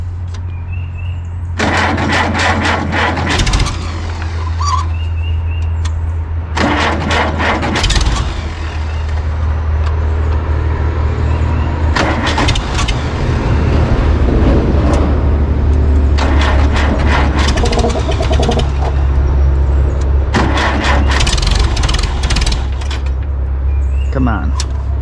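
A 1949 International Farmall C tractor with a Henderson loader cranks in several separate bursts as it is started in cold weather, with a steady low engine rumble running beneath and mechanical clunks between attempts.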